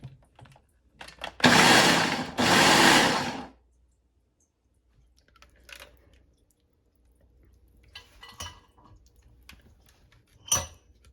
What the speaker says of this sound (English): then we're just going to blend it all up